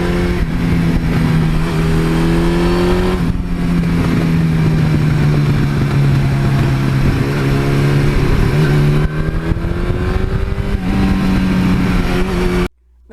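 A 1982 Suzuki GS1100E motorcycle pulls hard through the gears, its loud, close engine note climbing with each gear, dropping at the shifts, then cutting off at the end.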